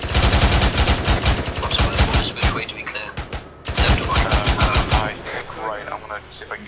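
Rapid automatic gunfire rattles in dense, loud bursts in a military video game. The volleys come close together, pause briefly, then resume before trailing off into quieter shouting.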